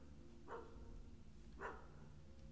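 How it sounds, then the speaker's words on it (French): Two faint, distant dog barks about a second apart over a low steady background hum, from a video game set in a graveyard with rain. "Pourquoi j'entends un chien?"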